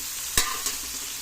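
Mussels and other ingredients sizzle in a pan for ginataang tahong, giving a brief burst of hissing frying with a sharp clack near the start.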